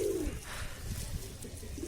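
Pigeons feeding, with one soft low coo near the start followed by faint shuffling and small sounds, quiet and close.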